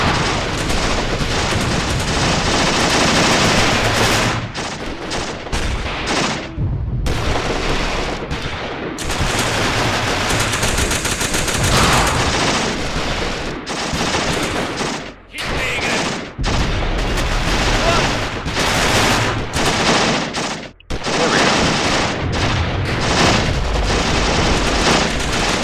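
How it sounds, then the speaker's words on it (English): Artillery bombardment and gunfire in the Achtung Panzer war game, a loud, dense, continuous barrage of booming shells and rattling weapon fire with only brief dips, no talking. "I can mark a few areas where we can start bombarding the enemy"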